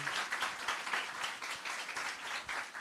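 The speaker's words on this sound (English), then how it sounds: "Ladies and gentlemen, please give a round of applause to Ms. Carencia Morrison." Sustained, dense applause from an audience at a high school gathering, steady, broad clapping filling the whole moment without a break.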